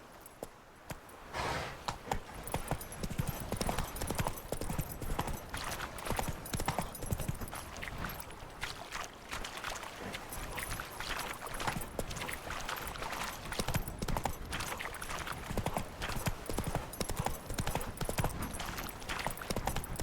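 A horse gallops steadily in The Witcher 3, its hooves drumming a rapid, continuous rhythm up close for the whole stretch, with faint tack jangling underneath.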